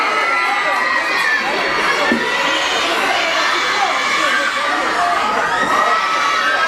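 A large crowd of young fans at an event cheers and shouts continuously, loud and close, with high excited screams layered over a dense roar and no pauses.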